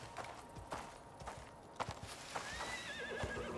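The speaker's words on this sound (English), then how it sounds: "That's a horse." A horse in the Icarus survival game whinnies loudly near the end, with steady clip-clop hoofbeats and footsteps thudding throughout, close and prominent with no speech.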